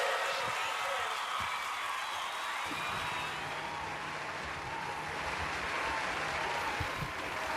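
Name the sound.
audience cheering and applause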